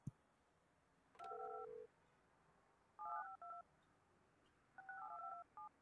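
Touch-tone telephone keys beep in the Project Highrise building-management video game, three short bursts of clear dialing tones separated by pauses, crisp and isolated over a quiet background.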